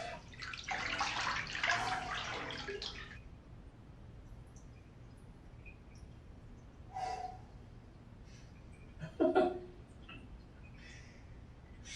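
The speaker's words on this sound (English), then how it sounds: "the hot water just feels good on my neck and back" Hot water running from a shower over a person's neck and back, a broad steady splashing for the first few seconds, then quieter with faint intermittent drips and a brief voice or movement sounds later.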